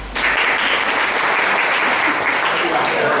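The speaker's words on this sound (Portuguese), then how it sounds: "Palmas para as chamas." Congregation clapping at a church gathering, a loud, dense burst of applause that starts abruptly and holds steady and close throughout, with a voice faintly audible beneath.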